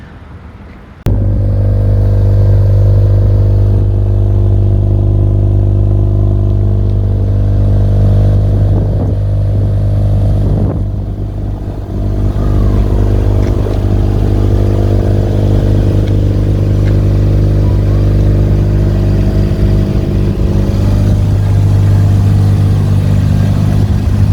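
A Mazda RX7 engine runs loud and close while driving, a steady rumbling drone with clattering and slight shifts in pitch, starting abruptly after a brief quiet moment.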